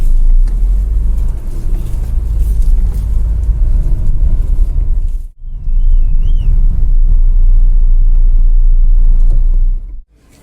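A car drives along with a loud, steady low engine and road rumble that drops out briefly midway and then returns, before cutting off sharply at the end as the vehicle is parked.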